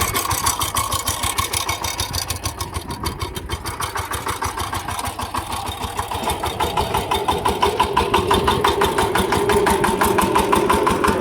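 A power tiller's engine runs steadily in a farm field, chugging with a fast, even rhythm at close range and growing slightly louder toward the end, with no talk over it.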